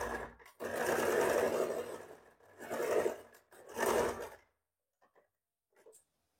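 Sewing machine stitching a neck strip onto a blouse, running in close bursts of steady whirring with short pauses between, then stopping with a few faint clicks.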